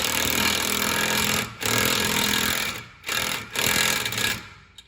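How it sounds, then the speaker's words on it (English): An impact wrench with a 14mm socket tightens a rear bump stop nut on a Fiat 500 Abarth, loud buzzing rattling bursts in three runs separated by brief pauses, close up with no talk. "with my right hand tighten it down using the impact"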